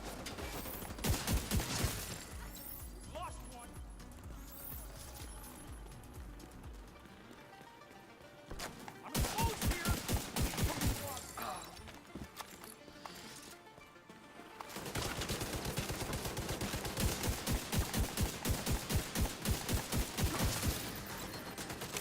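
Rapid bursts of blind-fire SVD rifle shots in The Division 2 game, sharp cracks in dense clusters separated by a quieter lull, loud and close over a low background ambience.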